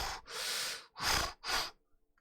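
A human voice imitates loud breathing and sniffing: three heavy, noisy breaths in quick succession, close and forceful, ending in faint trailing snuffles.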